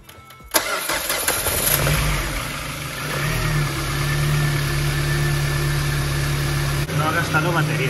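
A car that sat unused during quarantine with a drained battery starts: a short cranking burst catches into a steady mid-pitched idle that rumbles on close by, with someone speaking Spanish over it.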